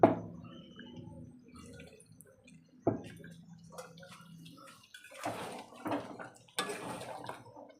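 Boiled coriander-leaf water is poured into a pot of cooked chicken curry, a few soft splashing pours and drips with light clinks of a utensil against the pan, quiet and close.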